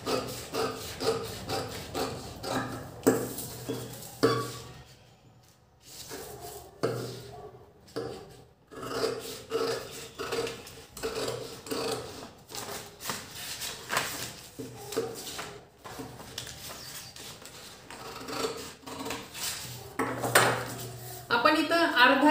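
Scissors snip through a paper pattern for a size 36 katori blouse, with close, repeated crisp cuts and paper rustling broken by a few short pauses.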